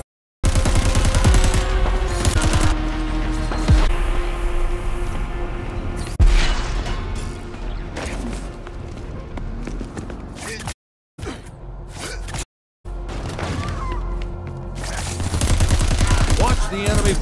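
Enemy gunfire in the Crackdown 3 game, a dense run of rapid shots and bursts that goes on almost without pause, loud and close, with brief gaps and heavy booming underneath.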